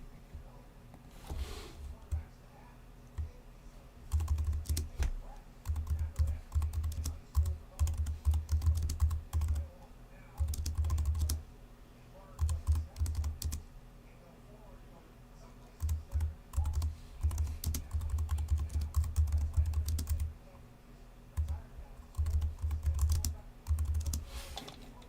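Rapid bursts of typing on a computer keyboard, clustered in short runs with brief pauses between them, moderately close and steady over a faint room background, with no talk over the keystrokes.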